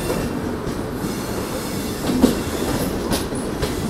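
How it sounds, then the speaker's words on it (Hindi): An Indian express train rolls into Kanpur Central station, a loud steady rumble of wheels and coaches with faint rail clatter and a light squeal close by. "भाई देखिए दोनों ट्रेनों का पैरेलल अराइवल देखिए कानपुर सेंट्रल पे"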